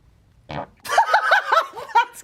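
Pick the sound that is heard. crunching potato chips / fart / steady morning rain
fart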